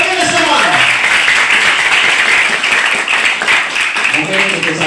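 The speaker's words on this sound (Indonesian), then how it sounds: "Beri tepukan yang gemuruh untuk kita semua" Students at a vocational high school assembly break into sustained, loud applause that fills the room, with voices mixed in early on.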